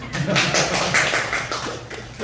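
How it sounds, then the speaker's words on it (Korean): Students in a Bible seminary classroom give a short round of applause, brisk clapping from a small group at fairly close range, with some voices mixed in. "잘했어. 박수."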